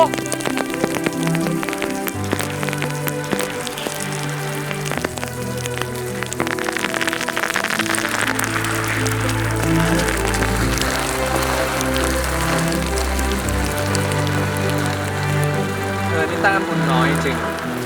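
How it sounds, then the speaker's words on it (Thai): Steady rain falls at the seaside, a dense continuous patter lasting the whole stretch beneath prominent background music. "ฝนยังตกเลย"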